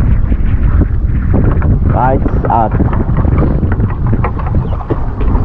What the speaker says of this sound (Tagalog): dito malakas yung hangin